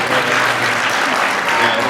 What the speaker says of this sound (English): a little smattering of applause